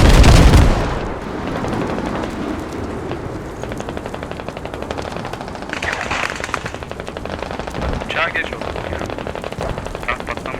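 Gunfire in the video game Squad rattles in rapid automatic bursts after an opening blast, continuing under a voice talking over the action.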